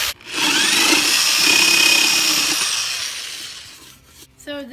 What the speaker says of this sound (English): Now we need to put a hole in the back that is 3/8 of an inch so you can hang it on a tree.